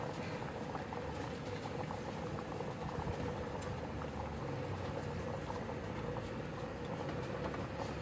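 Water boils in a pot under a steamer for cooking bamboo shoot parcels, a steady dense bubbling roar that holds even and close throughout.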